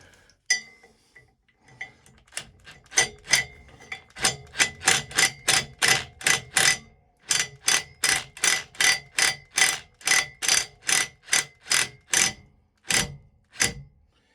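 Bolt being tightened on an Airablo vacuum pump during vane replacement, a long series of sharp metallic ratchet clicks in a steady rhythm, close and loud, with brief pauses.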